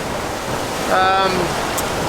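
A strong wind of over 25 knots and waves rush steadily past a heeling sailboat, a constant loud broadband roar with a brief voice speaking over it.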